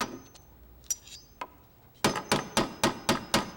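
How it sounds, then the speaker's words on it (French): A hammer strikes wood in a quick run of six even taps near the end, following a few scattered knocks and a light clink earlier, crisp and fairly close in an otherwise quiet space. "Est-ce que c'était le bruit de mon marteau?"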